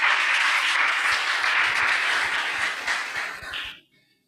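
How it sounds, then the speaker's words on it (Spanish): A church congregation at Vida Church applauds during a sermon: sustained, loud, dense clapping from many hands that thins and fades out near the end. "Dale ese aplauso al Señor."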